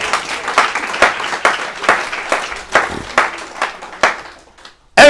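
A church congregation claps together in rhythmic bursts during worship, roughly one sharp collective clap every half second, ringing in a reverberant room before stopping abruptly near the end.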